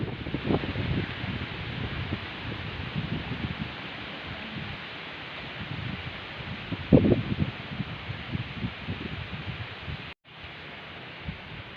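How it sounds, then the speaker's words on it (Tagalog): Steady gusting wind in an eggplant garden roars across the microphone with rustling, buffeting noise throughout, a brief dropout near the end, and no talking. "lakas ng hangin oh"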